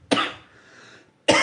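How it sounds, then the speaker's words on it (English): Two sharp, close coughs separated by a brief pause, with a faint breathy trail after the first one. "Coughed a lot. Got a lot of coughing done."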